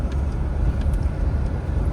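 A Jaguar XJS driving on the highway after a high idle valve service, a loud steady low engine and road rumble from inside the car, unbroken and with no talking.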